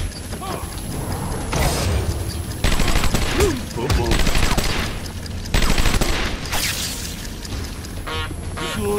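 Rapid bursts of gunfire ring out in Batman: Arkham Asylum, loud and repeated in clusters over a busy game soundscape with mechanical clanks, while voices speak at times.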